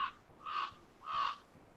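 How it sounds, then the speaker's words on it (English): A crow caws twice outdoors, two drawn-out harsh calls evenly spaced, moderately loud against a quiet background. "Oh, there's Papa Crow."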